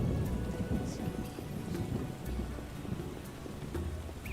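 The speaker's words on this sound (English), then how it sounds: "I'm just annoyed because it's the rain." Steady rain falling in a video game, with a low thundery rumble under it, a continuous wash of patter without a break and no voices.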